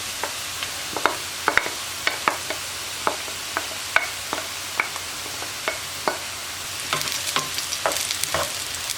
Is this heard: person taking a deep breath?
no